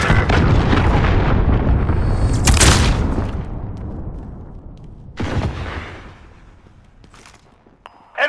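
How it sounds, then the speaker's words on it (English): A cruise missile explosion in the Modern Warfare video game: a loud, deep, sustained boom with rumble and a sharp burst near the start, decaying, then a second fainter blast and a distant rumble tail, no talk. "Enemy cruise missile incoming!"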